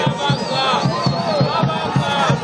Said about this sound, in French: Il est très applaudi par les Kassaïens